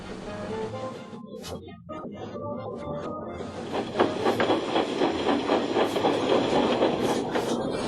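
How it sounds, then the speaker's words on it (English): A cartoon steam engine pulling trucks uphill, chuffing in steady rhythmic puffs with hissing and rolling clatter, building in loudness after a quieter, musical opening. "Thomas was beginning to puff over Gorton's Hill."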